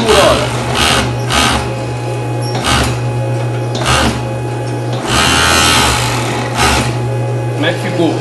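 Domestic sewing machine stitching a frilled bikini, its motor whirring in steady runs broken by short pauses, with someone talking over it throughout.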